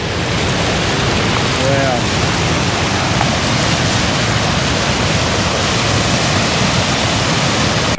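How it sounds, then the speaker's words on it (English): Water roars through a dam spillway as a loud, constant rushing wash. It is close and unbroken throughout, with one brief exclaiming voice heard over it. "The amount of water that's pumping through that."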